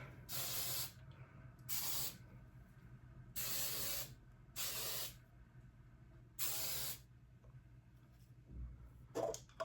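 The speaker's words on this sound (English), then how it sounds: "I'm going to use some hairspray to make sure that my flyaways and it just stays how it is." Hairspray sprays onto hair in five short, even bursts of bright hiss spaced about a second apart, close and fairly loud against a quiet room hum, ending with a small rustle.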